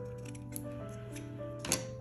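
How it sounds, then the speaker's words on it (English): Scissors trim tassel threads straight across for a shabby chic craft tassel, giving a couple of soft, quick snips over a steady low hum, close and fairly quiet, with no talking. "Let me get my scissors. Cut it straight across."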